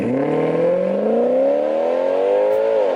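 A Ferrari cross-plane crankshaft V8 engine, naturally aspirated, in a Maserati Quattroporte revs up steadily, its rising harmonic whine climbing in pitch over a few seconds before easing off at the end, loud and close.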